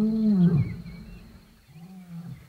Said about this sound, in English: We're on the trail of a lion.